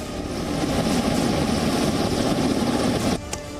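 Army helicopters fly over a military exercise, producing a continuous loud rotor and engine roar that holds steady, with no voices heard.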